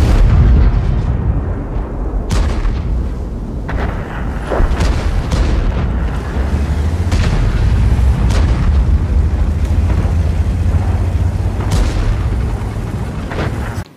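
World of Tanks battle sounds at maximum settings: heavy booming explosions and cannon shots land every second or two over a continuous low rumble of tank combat, loud and with no talking.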